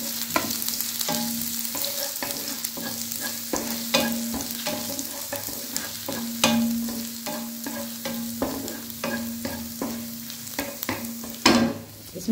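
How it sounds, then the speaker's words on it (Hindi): Chili, ginger and garlic sautéing in a pan (kadhai), a continuous near sizzle punctuated by regular clinking stirs of a utensil against the metal. "इसमें ये मिर्च अदरक और लहसुन ये डाल दिया मैंने, बस हल्का सा इसको सॉटे करना"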